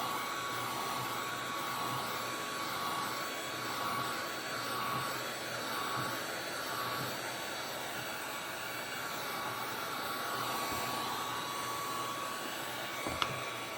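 A hair dryer blows steadily on a wet canvas being tightened, giving a constant close whooshing whine with slight swells. A brief knock comes near the end.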